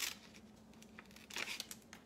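Scissors snip through material while a steampunk purse is made, giving soft rustling, crinkling cuts in a few short bursts, fairly quiet and close with no talking.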